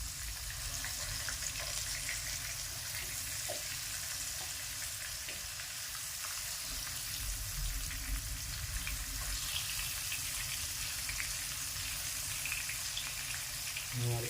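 Prawns frying in a pan, a continuous dense sizzle with steady crackling throughout, fairly close and unbroken, with a few faint clinks.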